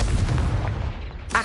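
Confringo spell explosion in Hogwarts Legacy, a loud booming rumble that fades over about a second, followed by a brief bright crackle.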